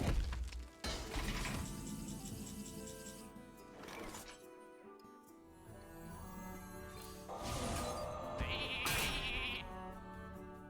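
Hearthstone game sounds after a mass polymorph card: several cartoonish sheep bleats over shattering and smashing effects and game music, loud and busy throughout.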